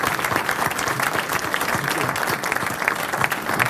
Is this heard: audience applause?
yes